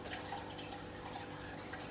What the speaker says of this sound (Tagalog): Tapos, aapaw ang tubig ulit dito.